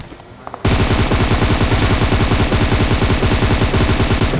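Video game gunfire breaks out after a brief quiet moment, a sustained rapid burst of automatic weapon fire that stays loud and dense until the end.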